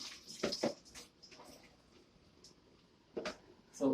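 Food rinsed in a bowl under running water, with short splashing bursts and a steady faint trickle between them, close by, and a person talking over it.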